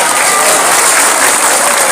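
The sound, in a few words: crowd applause at a religious gathering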